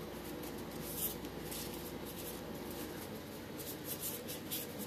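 A deck of tarot cards is shuffled by hand during a card reading, a soft, steady papery riffling and rubbing that runs quietly and continuously, close by, with no talking.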